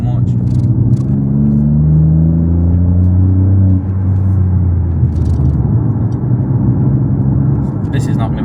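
Deep, loud exhaust burble from a BMW 118i with its muffler deleted, a low rumbling drone whose pitch rises and then settles as the engine revs, heard under a person talking.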